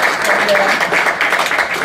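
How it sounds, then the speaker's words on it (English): An audience applauds panelists at a dinner dialogue held as a UN General Assembly side event, with steady, dense clapping throughout that sounds fairly close and fills the short moment alone. "A round of applause, please"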